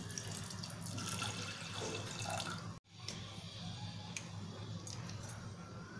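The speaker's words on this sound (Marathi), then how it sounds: "एक ग्लास पाणी घालूया।" Water poured from a glass into a pressure cooker holding soaked lentils, a steady close splash and trickle running for several seconds with a brief break midway, no voices.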